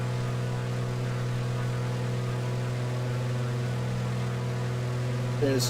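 A pair of radial aircraft engines drone in a flight simulator video game. The sound is a steady, even, low harmonic hum, unchanging from start to finish, with a brief faint bump near the end.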